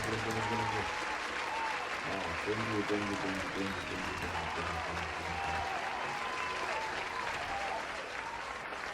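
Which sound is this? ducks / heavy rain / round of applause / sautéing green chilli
round of applause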